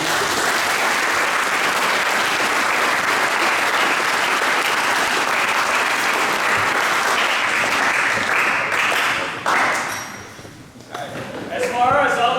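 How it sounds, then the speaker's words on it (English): A banquet audience gives football players a sustained round of applause, a dense wash of clapping that fills most of the clip before thinning and fading near the end, with a few voices surfacing. "Let's give these guys a round of applause."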